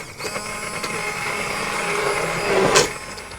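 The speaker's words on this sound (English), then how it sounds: "what's a lot easier and less messy is if you have an immersion blender" An immersion blender whirs steadily through pumpkin soup, a continuous mid-pitched motor hum that swells briefly near the end, close and without speech.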